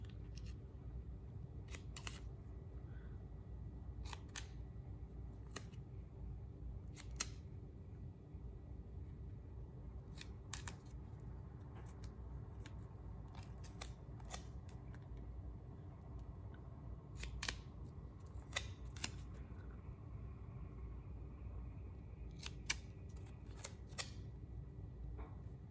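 Scissors make quick slits in a printed softball tumbler wrap so it will lay flat. Sharp close snips come in short clusters of two or three, spread across the stretch with quiet pauses between, over a steady low hum.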